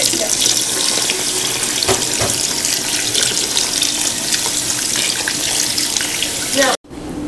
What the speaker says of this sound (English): you want to go ahead and dump 7 more quarts of water over the coffee grounds